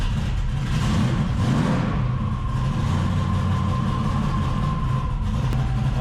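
A 1500 horsepower Dodge Challenger with Holley EFI, set up for the dyno, fires up and runs with a loud, rough, continuous rumble heard close by.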